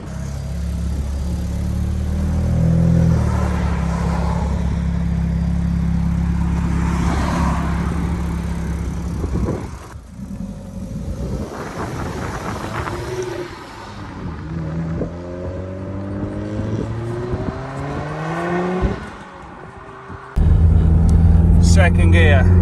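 A modified car engine rated at 210bhp runs and revs nearby, rising and falling in a steady rumble, with someone talking over it for most of the time.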